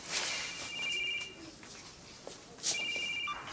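A phone rings with repeated electronic trills in two bursts, thin and slightly distant, over low room noise.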